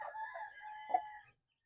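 A capon gives a single short, close crow-like call that breaks into a clucking note near the end, with no other sound around it.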